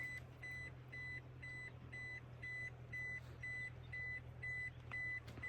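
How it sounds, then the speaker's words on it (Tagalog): A car engine runs nearby outdoors near a mountain river, a low steady rumble under a regular series of sharp electronic beeps repeating about twice a second throughout. "May kotse yata papunta dito. Narinig ko yung andar ng kotse."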